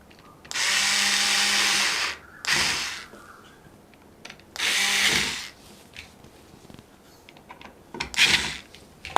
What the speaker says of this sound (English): if you can use the electric screwdriver